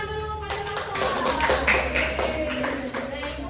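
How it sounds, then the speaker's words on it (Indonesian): Clapping from a classroom audience during a microteaching lesson, a short burst of scattered hand claps lasting a few seconds with some talk mixed in. "Beri tepuk tangan dulu pada Salsa."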